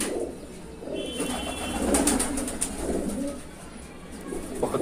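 A Shahjahanpuri pigeon coos in soft, repeated low phrases close by, with faint chirps and a little background noise around it.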